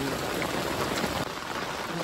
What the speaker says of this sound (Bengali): ওই বৃষ্টি থামবে না।